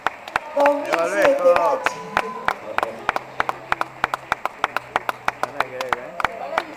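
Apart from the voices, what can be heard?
applause at an award ceremony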